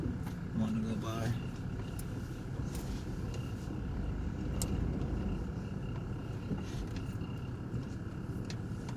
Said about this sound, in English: Got a little Silverado wanting to go by